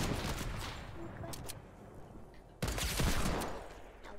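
Gunfire in an online shooter video game, with a couple of sharp reports and a sudden louder blast followed by a rumbling decay, heard fairly close under a faint background murmur.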